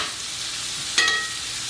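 Freshly sliced onions fry over medium heat in a pan for an Indo-Chinese chili chicken, giving a steady close sizzle with one brief clatter near the middle, and no talking.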